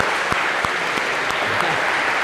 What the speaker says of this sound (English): A round of applause if we can.